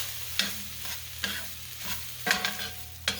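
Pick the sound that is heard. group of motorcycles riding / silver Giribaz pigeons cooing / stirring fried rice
stirring fried rice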